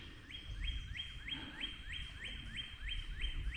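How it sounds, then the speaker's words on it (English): Birds sing along the Huron River, one bird repeating a bright rising call about every half second over a steady low rumble of water and paddling, fairly close and clear. "Just listen to the birds"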